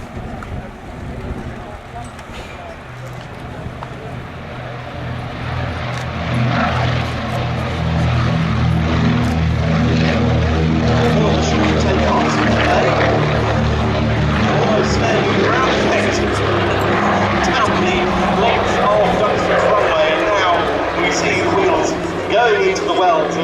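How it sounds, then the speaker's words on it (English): A Consolidated PBY-5A Catalina flying boat's propeller engines build from a moderate drone to a loud, sustained roar as it takes off at an air show, with an announcer talking over it. "Plain sailing to Catalina gets airborne."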